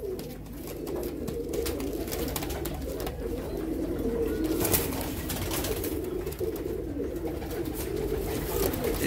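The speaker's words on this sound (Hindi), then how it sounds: "ये नायाब कबूतर है" Pigeons cooing close by, soft repeated low coos overlapping in a continuous murmur from a flock of fancy flying pigeons, with steady background noise throughout.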